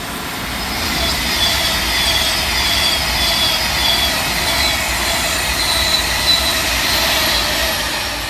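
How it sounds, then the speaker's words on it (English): An Avanti West Coast Class 390 electric express train races past at speed on the main line at Heaton Chapel, a steady loud roar of wheels and rushing air lasting throughout with faint squeal and rail hiss. "First fast southbound action comes courtesy of 390-134, working 1 Alpha 23 for Avanti West Coast"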